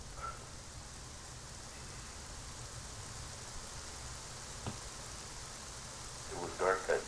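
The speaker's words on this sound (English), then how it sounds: "It was raining." Rain falls in the video game The Legend of Zelda: Majora's Mask, a steady, soft, even hiss that runs throughout, with a couple of faint tonal blips near the end.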